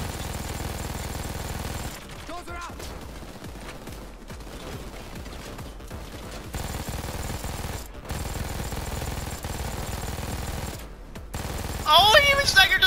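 A minigun dozer in Payday 2 on Death Wish difficulty unloads sustained, dense minigun fire that roars almost without a break, cutting out for a few short pauses, while a voice talks over it.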